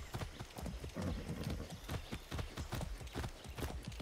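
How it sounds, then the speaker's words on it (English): Horse hooves clip-clop steadily in Far Cry 6, a quick, regular trotting rhythm that stays close and loud throughout, with no talk over it. "Can I take the horse?"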